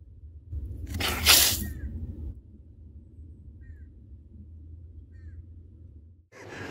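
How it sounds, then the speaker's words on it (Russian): A brief loud rushing burst, then a steady low rumble of water flowing through a repaired underground water line that carries on for several seconds. "как шумит вода"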